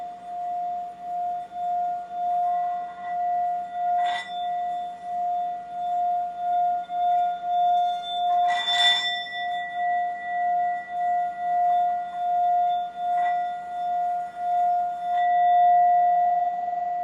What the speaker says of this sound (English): playing with the singing bowl